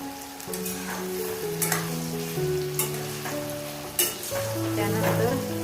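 Onion paste frying in oil, sizzling steadily while a spoon scrapes and stirs it in the pan; close and continuous, with soft music playing underneath.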